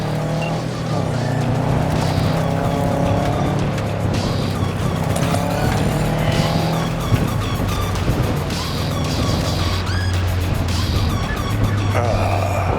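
Car engine driving in Cyberpunk 2077, a steady sustained drone with shifting tones and occasional tire noise, continuous throughout with no speech.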